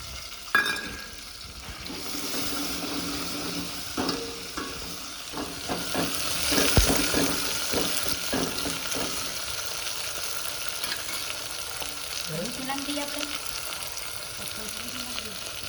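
Tomatoes and potatoes frying for vagharela rice, a soft steady sizzle with scattered stirring clinks and scrapes, fairly quiet and without speech.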